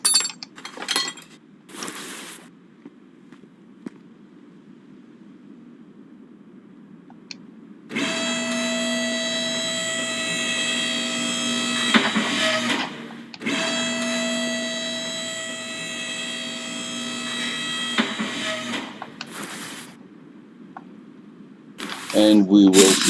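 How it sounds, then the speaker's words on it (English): Removing a car starter in the Car Mechanic Simulator 2021 game: two sustained, loud, whirring tool drones of several seconds each, separated by a short gap, with brief clicks and clinks around them. "we need to remove the starter"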